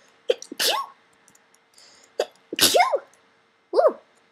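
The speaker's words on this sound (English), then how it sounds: "I'm about to sneeze." A person sneezes three times, each a sharp burst with a short breathy lead-in, spaced about a second or more apart in a quiet room.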